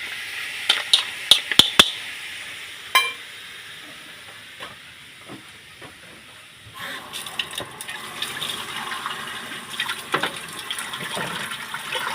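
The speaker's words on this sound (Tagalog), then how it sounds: "Lagyan po natin ng broth." Broth poured into a cooking pot with chili paste and chili powder in it, a soft running liquid splash and sizzling hiss after a few sharp clinks, steady and close.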